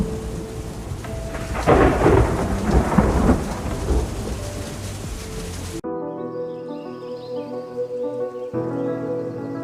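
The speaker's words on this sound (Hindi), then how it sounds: "तभी नदी उफन पड़ी, आसमान गरजा, भयंकर बवंडर उठा।" A thunderstorm with rolling thunder over heavy rain, loud crashes swelling early and then breaking off abruptly into a quieter tonal background.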